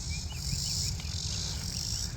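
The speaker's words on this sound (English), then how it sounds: "listen to those cicadas." A dense, continuous drone of cicadas fills the air in Tennessee, loud and unbroken, with a high shrill buzz pulsing slightly over a low hum.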